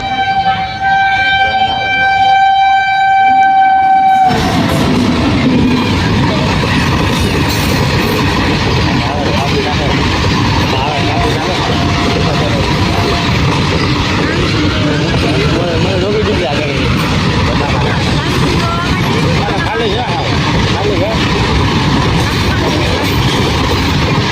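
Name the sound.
train passing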